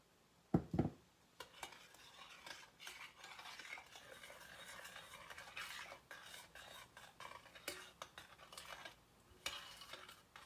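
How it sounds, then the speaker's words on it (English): A spoon stirs heavy cream in a bowl for homemade fudgsicles, scraping and clinking steadily against the sides, with a couple of sharper knocks near the start and no talking. "just keep whisking or mixing with a spoon like me"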